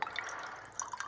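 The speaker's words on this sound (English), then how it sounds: "now I'm going to pour the hibiscus petals with the tap water in" Tap water trickles and drips onto dried hibiscus petals in a container, a close, light splashing with a few brighter drip plinks, no voices.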